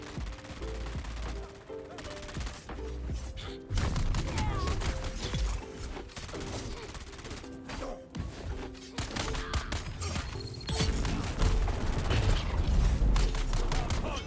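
Dense video-game gunfire fills the scene: rapid bursts of automatic weapons mixed with heavier booms and mechanical clatter, loud and continuous with short gaps, under game music.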